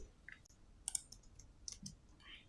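Fingers type on a computer keyboard in short, irregular bursts of faint clicks. The keystrokes sound soft and close against a quiet room.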